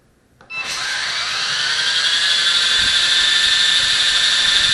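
WLtoys v913 RC helicopter main motor spinning up during break-in, a sudden high electric whine that starts abruptly and holds steady and loud at close range, no talk.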